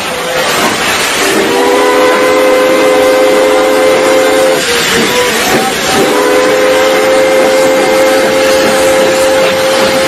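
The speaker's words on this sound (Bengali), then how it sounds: "ট্রেন 2 মিনিট থেমে চলে গেল।" A loud steam train hisses and rumbles steadily, its whistle sounding in sustained tones as the engine pulls away.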